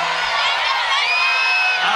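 A large crowd at the 2015 IFSC European Climbing Championship men's lead final in Chamonix cheers and whoops loudly and continuously as a climber ascends, a dense roar of high voices.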